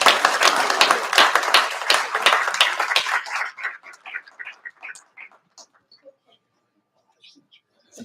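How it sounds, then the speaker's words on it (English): An audience applauds at the end of a lecture on Civil War monuments and memory, with dense clapping for about three seconds that thins into scattered claps and fades out. "one last round of applause for the great Chris Mackowski."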